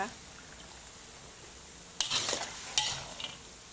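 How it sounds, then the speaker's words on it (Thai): Peanuts frying in oil on low heat for Thai yam naem, with bursts of sizzling and stirring scrapes starting partway through after a quiet stretch, and someone talking. "อันนี้เราก็จะทอดเอาไว้ไป ใส่ยำแหนมนะคะ"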